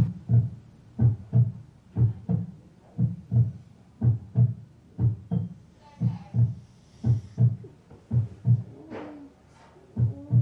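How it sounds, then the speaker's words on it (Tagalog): A heartbeat sound effect plays as a wake-up call inside a house: loud, regular lub-dub thumps repeating steadily over ten seconds, with faint background noise between beats. "yung wake-up call, yung heartbeat na naman"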